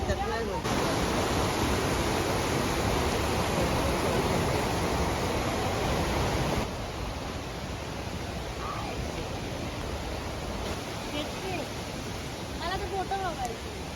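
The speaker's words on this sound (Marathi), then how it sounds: "नदी आहे छोटीशी मित्रांनो" Constant rushing of a small river flowing near Tambdi Surla temple in Goa fills the scene, loud at first then slightly softer, with faint voices speaking toward the end.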